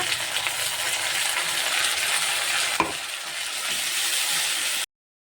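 Ginger and garlic paste fry with browned onions in a pan for a fish curry, a dense, close sizzle with stirring scrapes and one sharp spoon knock midway, steady until it cuts off abruptly.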